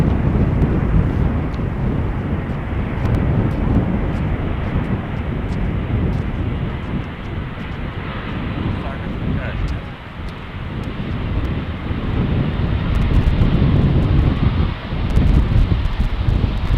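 A KLM airliner lands on runway 18R at Amsterdam Schiphol in a crosswind, a loud steady jet roar with heavy wind buffeting the microphone, continuous for the whole stretch.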